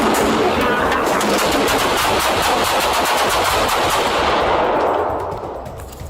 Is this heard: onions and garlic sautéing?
no